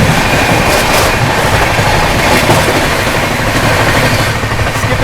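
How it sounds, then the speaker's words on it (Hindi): The Suhaildev Superfast Express runs at speed, heard from inside a first AC coach as a loud, constant rumble and roar with faint rhythmic clatter from the rails, steady throughout. "गाड़ी एकदम बढ़िया रफ्तार में भाग रही है।"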